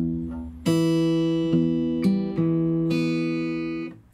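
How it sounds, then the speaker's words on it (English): A slow fingerstyle blues opening bar on guitar: a few plucked notes and chords ring out one after another with long sustain, clear and close, with no voice. "So the first bar in total sounds like this,"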